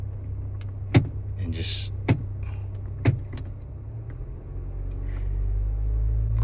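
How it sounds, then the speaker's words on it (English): A 2017–2022 Honda CR-V idles with a steady low engine hum while the shifter is moved through reverse, neutral, drive and the lower gears, three sharp clicks marking the shifts and the rumble swelling at the end; someone speaks briefly. "keep my foot on the brake, and then I'm just gonna go in reverse, neutral, drive, the lower gears"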